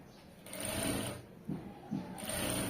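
A sewing machine stitches a side seam of a garment in short bursts, a close, fast whirring hum that starts, pauses briefly and resumes.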